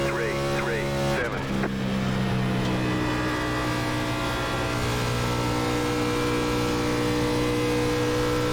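A NASCAR Xfinity race car at Chicagoland Speedway in iRacing drones steadily at full throttle, a loud continuous engine roar with a brief rev change early on, while a voice talks over it.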